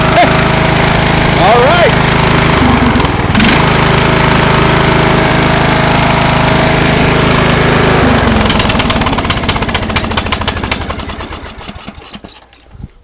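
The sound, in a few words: riding lawn mower engine starting and running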